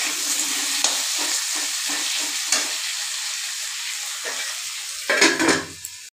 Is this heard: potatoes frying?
yes